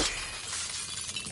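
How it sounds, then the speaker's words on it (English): Glass shattering in the sci-fi video game Prey, a brief crunchy burst of breaking shards at moderate volume, with no voices. "Break the glass here."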